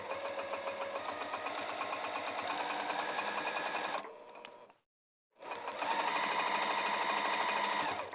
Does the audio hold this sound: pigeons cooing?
no